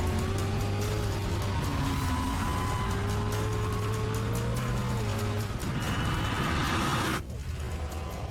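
Tesla and Cadillac cars racing on a track, with a loud, steady engine drone and shifting tonal whine that fades toward the end as the cars pull away.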